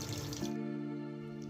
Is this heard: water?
yes